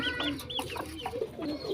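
A brooding hen that hatched duck eggs clucks in a rural yard: several short, close clucks in a quick irregular series over a constant background noise.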